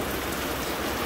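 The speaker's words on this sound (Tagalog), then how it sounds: "Ang lakas po ng ulan ngayon." Heavy rain pours steadily as a dense, loud hiss close by, with no voices.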